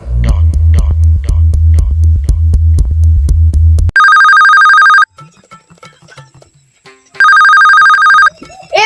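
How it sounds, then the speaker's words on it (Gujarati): A mobile phone rings loudly and close by. A fast, pulsing rhythmic tune comes first, then bright sustained electronic tones sound, fall silent for about two seconds, and start again. "આ કલાક થી ફોન વાગે છે"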